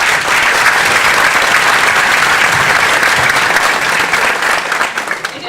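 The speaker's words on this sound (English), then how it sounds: "Let's give Jeff Ashton a round of applause." Loud, dense audience applause at a fraternity's MLK forum panel in Orlando, a thick steady roar of many hands that holds for several seconds and only starts to fade at the very end.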